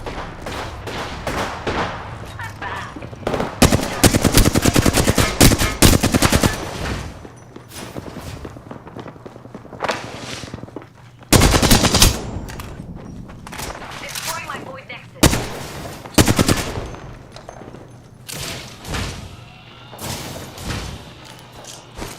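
Bursts of rapid automatic gunfire in the video game Apex Legends, several loud volleys separated by quieter gaps, with someone talking over the action.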